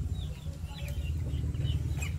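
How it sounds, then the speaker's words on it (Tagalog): Young geese at a rural farmyard give soft, scattered peeps and chirps over a steady low background hum, faint and without any talking. "Ito na rin yung mga gansa natin na maliliit nung ano."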